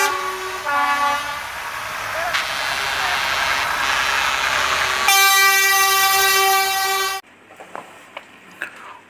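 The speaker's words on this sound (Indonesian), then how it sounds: "ini kereta Thomas merah dan biru teman-teman" A toy Thomas train, red and blue, gives off an electronic whistle and a continuous tooting tune that runs steadily, then cuts off and leaves a few light clicks.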